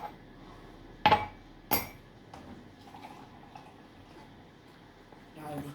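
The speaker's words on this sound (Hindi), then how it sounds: "अब छानने जा रही हूँ चाय को।" Tea being strained into a cup in a home kitchen, with a couple of sharp metallic clinks of strainer and utensils against the cup, then soft quiet handling noises.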